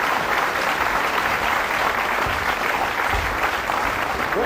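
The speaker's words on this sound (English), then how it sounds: "Listen to the crowd." A large crowd at the World Pool Championship 2005 keeps up loud, continuous applause after an upset win, a dense, unbroken roar of clapping for the whole stretch.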